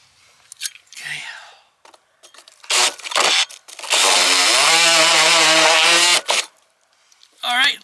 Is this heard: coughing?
no